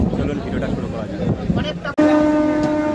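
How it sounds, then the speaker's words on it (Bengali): A Krishnanagar to Sealdah local train rumbles along at speed, a steady broadband roar with a brief dropout near two seconds, after which a sustained horn-like tone rings over the running noise. "আমাদের ট্রেন কিন্তু দুরন্ত গতিতে এগিয়ে চলেছে"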